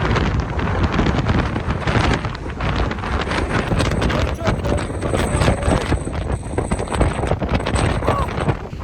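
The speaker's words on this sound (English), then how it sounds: "That same day, we got to experience what was considered a gale wind warning." Gale-force wind on the Oregon coast at a state park, roaring and buffeting the microphone continuously with loud gusty rumble throughout.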